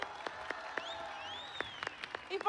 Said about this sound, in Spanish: Un aplauso para Paola Belmonte,